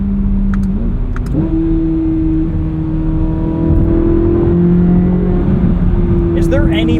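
A 2023 Chevrolet Corvette Z06 engine drones under load with a steady, throaty intake hum that rises in pitch, loud and close, while people talk over it.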